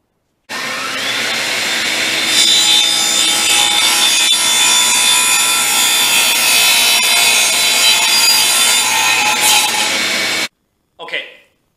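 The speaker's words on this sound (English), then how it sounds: "So I'll make my first cut across, and then I'll turn it around 90 degrees and make the second cut" Hand saw cutting across an old piece of wood for a farmhouse-style paper towel holder, a loud steady rasping stroke rhythm for about ten seconds, then stopping abruptly with one short scrape after.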